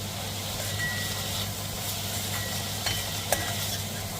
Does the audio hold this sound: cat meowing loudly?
no